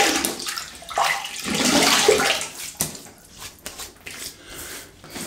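Water splashing and running while a face is wetted before shaving, a close rush of water for about two seconds, then scattered drips and splashes.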